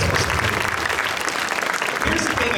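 An audience at a fan expo panel in San Francisco claps and cheers, a dense, loud wash of applause from a large crowd that fills the whole moment.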